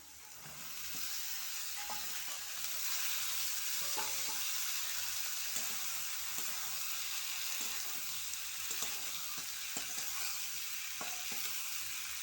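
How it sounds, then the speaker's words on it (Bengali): Cut yardlong beans and potatoes fry in a pan with a constant sizzle, while a utensil repeatedly scrapes and knocks as the pieces are stirred, close and fairly loud, with no voices. "এবার আমি দিয়ে দেবো বরবটি আর আলু কেটে রাখা"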